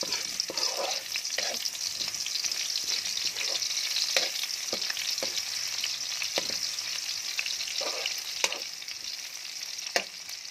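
Onions fry in a pan for a spicy Filipino adobo of snails. A loud, steady sizzle runs throughout, with the scraping clicks of stirring scattered through it.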